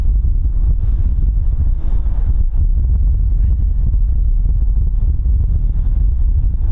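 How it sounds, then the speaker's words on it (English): Strong blustery wind buffets a temporary microphone outdoors at an exposed spot by Dublin Airport, giving a loud, continuous low rumble with gusty surges and no talk. "Hopefully this temporary mic is coping with the wind, because it is blustery here."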